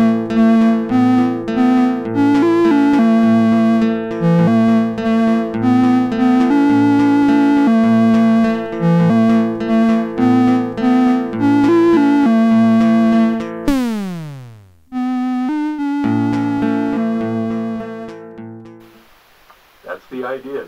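Steady electronic music with bright synthetic tones and a rising sweep of beeps near the end, then a short quieter tail.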